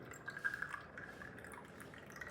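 Water sample being poured into a container during a pH and turbidity test, a soft steady trickle with faint drips, close and quiet, with no speech.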